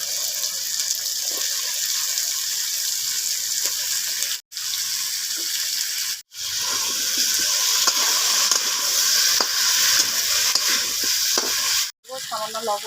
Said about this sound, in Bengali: চাপিয়ে চাপিয়ে আমি আলু আর মশলাকে ভালো করে কষাবো।